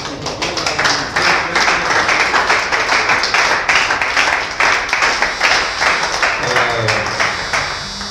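Sustained audience applause at the inauguration of a youth sisters' welfare committee, steady and dense for several seconds, with faint voices and some music mixed in underneath.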